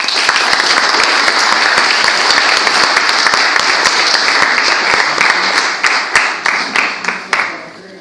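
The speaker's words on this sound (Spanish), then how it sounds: "les pido un fuerte aplauso para ellos" Loud, close audience applause at a conference, a dense roar of many hands that holds steady and then breaks into scattered separate claps as it dies away.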